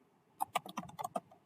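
Typing on a computer keyboard while writing code, a quick run of about eight distinct key clicks in an uneven rhythm, close and fairly quiet, with no talking.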